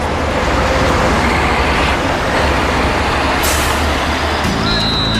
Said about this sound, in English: Oh, come on, the garbage truck